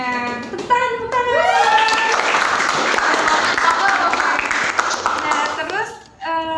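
Studio audience applause during a talk show episode, a burst of lively clapping lasting several seconds, with people talking before and after it.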